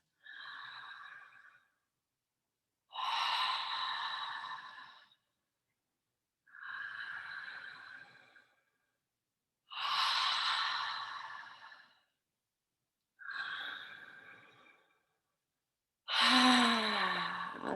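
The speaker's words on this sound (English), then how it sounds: "So that would be a breath with no pause between the inhale and the exhale," A person breathes in and out through the mouth with no pause between inhale and exhale, each long, airy, sighing breath clearly separated by short silences, close and alone, six breaths in total.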